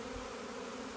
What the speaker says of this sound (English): This is a huge swarm.